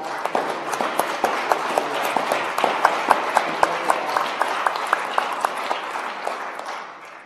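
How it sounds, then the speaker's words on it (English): An audience claps after a presentation, a steady round of applause with some sharp individual claps standing out, fading slightly toward the end. "I think he deserves another applause."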